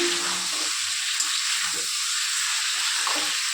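Steady oil sizzle from potatoes, onions and chillies frying with cumin seeds, a constant bright hiss with a few soft stirring scrapes, no talking.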